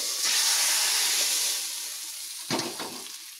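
Curry leaves dropped into hot tempering oil for a padavalanga pulinkari, giving a loud burst of crackling sizzle that fades, then a second short spitting flare near the end, close and with no talking.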